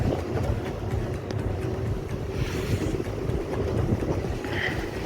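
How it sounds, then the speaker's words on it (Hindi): Wind blowing steadily outdoors near Jim Corbett forest, a continuous broadband rush with gentle gusting, close and fairly loud, no talk. "भाई क्या प्यारी हवा चल रही है यार।"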